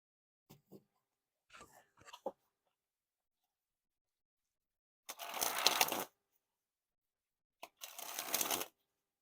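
Blue Bee Casino playing cards sprung from hand to hand, two dense riffling bursts of about a second each, preceded by a few soft handling clicks and rustles, close and fairly loud.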